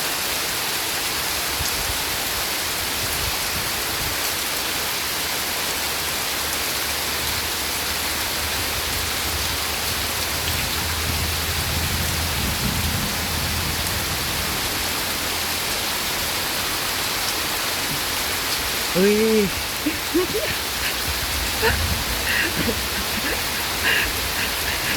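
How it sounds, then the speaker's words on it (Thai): Steady rain pours outdoors, a continuous dense hiss with wind gusting through it, while a voice speaks briefly near the end; thunder is not clearly distinct. "เสียงฟ้าเสียงฝนนะคะ เสียงลมด้วย"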